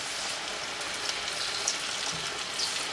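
Moong dal pakode fry in hot oil over a medium flame, giving a soft, steady sizzle with faint crackles and no voices.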